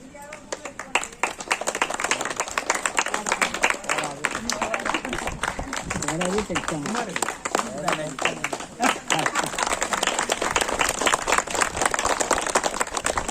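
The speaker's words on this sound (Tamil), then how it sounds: "எல்லாரும் ஒரு கைத்தட்டி வர வச்சு." A crowd claps at a temple gathering in Vyasarpadi, Chennai, a dense, sustained patter of many hands that swells and carries on, with voices and chatter underneath.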